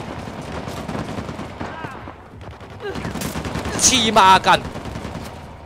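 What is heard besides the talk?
machine gun fire in video game Uncharted: The Lost Legacy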